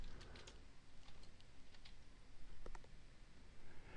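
Typing on a computer keyboard while entering a spreadsheet formula, quiet irregular key clicks in short bursts, close but faint.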